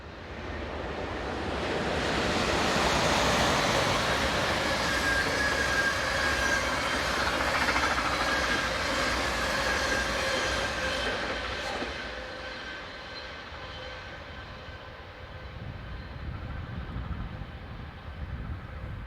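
Locomotive 1904 hauling the 15:40 passenger train from Ghent to Tongeren rumbles past, a steady loud roll of wheels and engine that eases slightly toward the end, with no voices.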